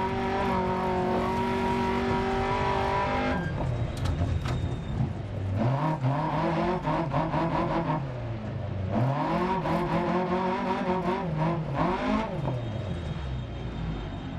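Rally car engine in the DiRT Rally 2.0 racing game, loud and continuous, revving up and down through repeated gear changes with whining drivetrain and sweeping pitch rises and falls.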